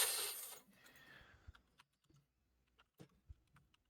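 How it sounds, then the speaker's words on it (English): Sharp, scattered keystrokes hit a keyboard hard after a brief loud burst of noise, several separate clacks and taps spaced irregularly against near silence. "The aggressive typing."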